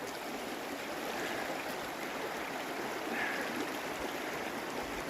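Stream water flows over rocks along a desert trail near Phoenix and Superior, a steady, even rushing hiss with no pauses, moderately close and alone.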